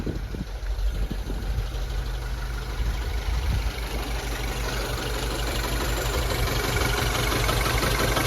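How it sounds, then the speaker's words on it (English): Close, rough, uneven idle from a Mini Cooper S engine misfiring and running on only two cylinders, a continuous chugging rumble with no talking. "she's running on 2 cylinders"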